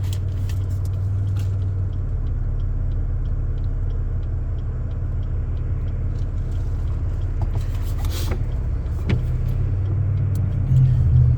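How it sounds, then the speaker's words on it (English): The V8-era engine of a 2000 Chevrolet SS Impala runs steadily at idle with a continuous low rumble, heard from inside the car, with faint clicks and rattles over the drone. "This is a 2000 SS Impala. So it's got that bigger motor in here."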